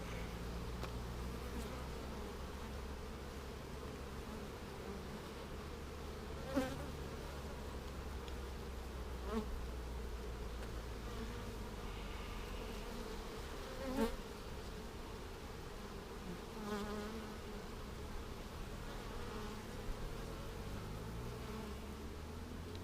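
Honeybees buzzing steadily around open hive frames with drone brood, a continuous low drone with a few louder passes close by, no voices.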